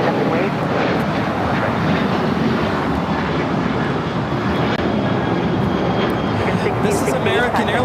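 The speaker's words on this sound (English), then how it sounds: "This is American Airlines 1668 taking off to Phoenix on a 737-800." An American Airlines Boeing 737-800 airliner takes off at LAX, its jet engines giving a continuous, even broadband roar throughout, with voices talking over the noise.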